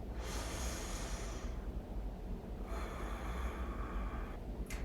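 Two slow, deep breaths are drawn close and quiet during a calming yoga session, each a soft airy rush separated by a short pause.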